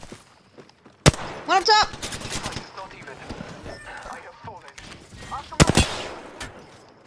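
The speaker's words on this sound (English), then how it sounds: "I know, I'm shooting at her." Gunfire in the video game Apex Legends: two sharp loud shot bursts spaced apart, with quieter game sounds between and several people talking excitedly over the action.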